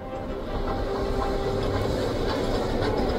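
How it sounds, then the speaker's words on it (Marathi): The Jacobite Express steam train on the Fort William to Mallaig line: a loud, steady rumbling roar of wheels on rails with a faint rhythmic clatter, close by and continuous. "ही रेल्वे जी आहे ही जॅकोबाईट एक्सप्रेस आहे हॉगवर्ड्सची. तर ती फोर्ट विलियम टू मलेज अशी धावते."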